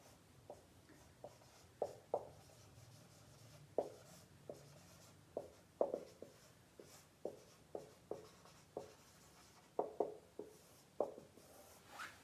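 Chalk or marker taps and strokes sound in short, irregular bursts as a formula is written on a board during a classroom lecture, close and fairly quiet, with no talk.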